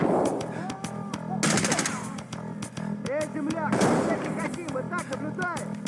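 Rapid gunfire in a video game, bursts of shots crackling over music and game sound effects, with a voice talking through parts of it.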